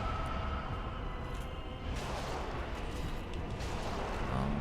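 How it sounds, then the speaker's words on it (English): The Four Kings boss in Dark Souls Remastered unleashes an explosion attack, a dense rumbling burst of game noise that swells and sustains with no talk over it. "No, it's not a grab, that's the explosion."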